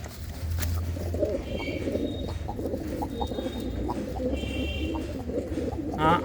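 Pigeons coo steadily in a loft where a hen has just laid an egg, soft rolling calls repeating close by over a constant low rumble, with faint chirps above.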